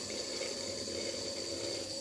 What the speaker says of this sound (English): the motor is working and the water is flowing through this